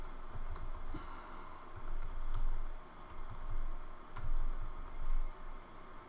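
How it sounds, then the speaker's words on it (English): Rapid clicking of keys on a computer keyboard, typed in uneven bursts with short pauses, close and fairly quiet. "you can just start typing."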